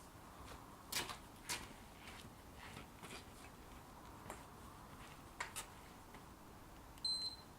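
A Gym Boss interval timer gives a brief pair of high beeps near the end, following scattered knocks and clatter during a beginner calisthenics press-up workout indoors.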